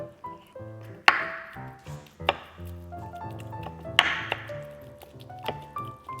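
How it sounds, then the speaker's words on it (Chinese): Cooked meat being chopped with a cleaver on a small cutting board: sharp, irregular thunking strikes, several loud hits among lighter taps, close by with no talking. "那我這個切熟食的這個板有點小，我們就一點點剁它"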